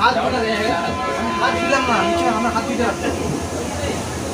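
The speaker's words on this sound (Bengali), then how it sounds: "ট্রেন চলছে" A moving passenger train leaving Kamakhya gives a steady, continuous rolling rumble that carries on throughout, with voices talking over it.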